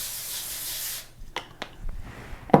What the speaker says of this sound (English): I'm going to spray this with some nonstick spray